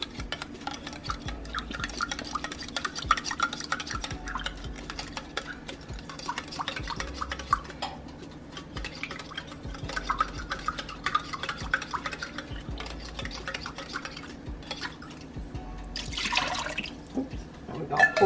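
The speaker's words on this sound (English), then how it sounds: "And we're going to stir this can as well." Water being stirred in a can, half full, while making chicken and rice in a kitchen, gives a steady run of small swishes and clinks with faint drips, close up and fairly quiet throughout.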